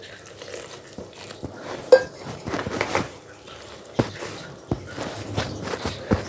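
Bread dough stirred by hand in a bowl without a mixer, water added little by little for fried chocolate-filled buns, making irregular soft scraping and sticky knocks with a few sharper clinks against the bowl.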